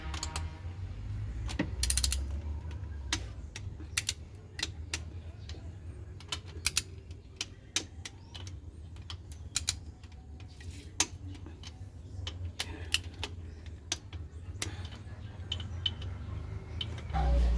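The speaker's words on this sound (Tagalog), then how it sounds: "Ito yung torque wrench to guys, torque wrench gauge." Ratcheting clicks of a torque wrench tightening a 12 mm bolt on a Suzuki K6A engine, a steady run of sharp metallic ticks scattered through the clip over low workshop rumble.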